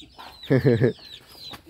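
Chickens raised by transmigrant villagers in North Kalimantan cluck in a short burst of three close, loud pulses, followed by fainter farmyard bird calls.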